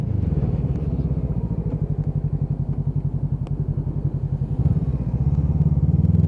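A motorcycle on a GTR group ride thrums steadily up close, its engine note a fast, even pulsing that stays loud throughout, with a brief shift in tone near the end.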